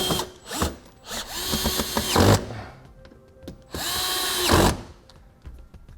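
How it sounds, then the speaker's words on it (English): Power drill running in two long bursts, driving the screws of a Blue Ox base plate kit into a 2013 Cadillac SRX. Loud and close, the bursts separated by quieter clicks and handling noises, with no talking. "Now we'll tighten them down."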